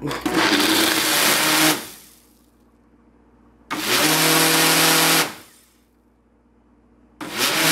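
A loud blender whirs in two long bursts with quiet pauses between, a third burst starting at the end.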